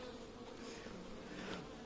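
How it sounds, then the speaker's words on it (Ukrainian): Honey bees buzz in a dense, continuous drone, close and fairly loud, with no voices, from a beehive with empty frames and no honey. "Трохи старої бджолки є."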